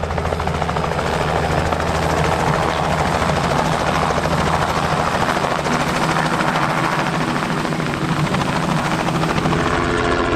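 Helicopter flying overhead at the Acropolis Rally in the mountains, a loud steady rotor thrum with dense, continuous chopping that stays close throughout.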